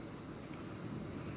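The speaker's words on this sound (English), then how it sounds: "I can't do anything outside because look, it's just pouring." Heavy rain pours outside in a storm likened to a hurricane, a steady, dense roar of water with no breaks throughout and no voices.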